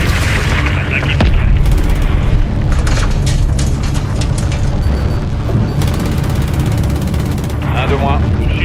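Loud booms and gunfire-like blasts of a missile being shot down in a French action film, sharp impacts over a dense, continuous battle rumble with voices mixed in.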